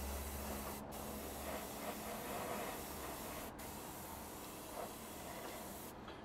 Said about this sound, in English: we've nicely sprayed up this one wing